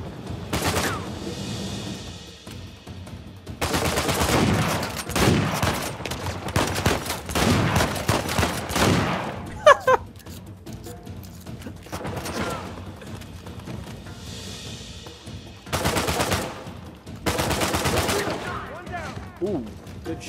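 Heavy gunfire from Uncharted 4 crackles in long, loud bursts of rapid shots and shotgun blasts, separated by quieter gaps, with someone speaking briefly in between.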